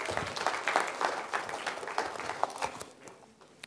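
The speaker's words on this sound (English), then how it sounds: "Give the boys a little round of applause for coming down." A small audience at a science show gives a brief round of applause for young volunteers, moderately loud at first and then thinning out and fading toward the end.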